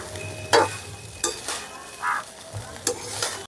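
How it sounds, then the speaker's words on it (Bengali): Egg fried rice seasoned with black pepper is tossed in a hot pan, with a few loud scraping strokes of the spatula against a steady background sizzle. "আবার এই নিচ থেকে এইভাবেই নাড়তে হবে। ভালো করে সবগুলো মিক্স করে নিচ্ছি।"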